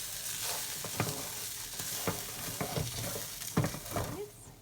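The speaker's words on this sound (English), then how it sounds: "add in the paella rice and stir into the juices to coat" Paella rice stirred into softened vegetable juices with paprika in a pan gives a soft, steady sizzle, with light scraping strokes and scattered clicks close up and fairly quiet.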